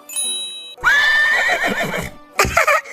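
A horse gives a loud, close whinny lasting about a second, followed by a second shorter neigh, set within a comedy skit about people magically turned into horses.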